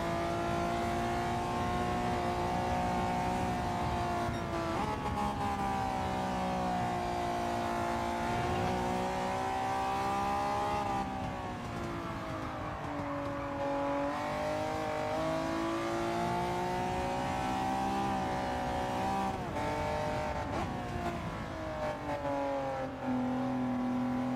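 A car engine in a racing video game revs continuously with rising and falling pitch, loud and close, the harmonic whine sweeping up and down.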